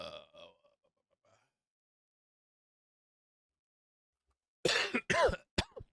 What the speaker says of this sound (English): I'm going to be coughing and hacking